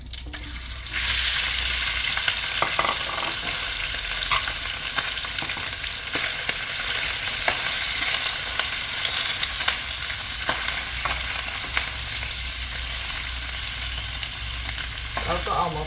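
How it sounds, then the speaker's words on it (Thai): Boiled, deboned chicken pieces dry stir-fried in plain oil, with a loud continuous sizzle and scraping stirring strokes throughout, close up and without talk. "คั่วกับน้ำมันนะคะ"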